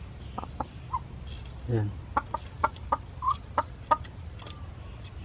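Chickens clucking on a farm, with short repeated clucks and a few sharper calls near the listener, spread in an uneven rhythm over low rural background noise, while a person says a brief word.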